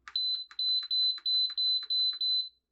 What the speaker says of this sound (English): One thing's for sure, you're not gonna miss it beeping.